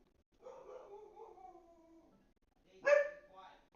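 Dogs in a room howling, a drawn-out wavering howl followed after a pause by a sharper, louder bark-like yelp, fairly faint overall.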